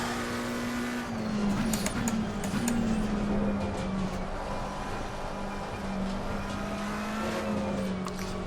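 McLaren 720S GT3 Evo race car in Assetto Corsa Competizione, its engine holding a loud, steady drone with slight pitch shifts through a slow corner, plus a few sharp ticks, with no voices.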